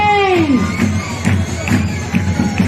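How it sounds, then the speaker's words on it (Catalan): Crowd cheering and applauding at a giants festival parade in Caldes de Malavella, a loud sustained roar with clapping and whoops, with a descending voice-like tone at the start. "Un fort aplaudiment."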